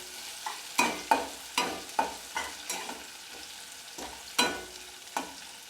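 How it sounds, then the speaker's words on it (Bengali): Chopped onions fry in a pan over medium heat on the way to reddish-brown, with a soft steady sizzle broken by a string of sharp spatula scrapes and knocks as they are stirred, close and clear, with no voices. "পেঁয়াজটা আমি একটু লাল করে ভেজে নেব।"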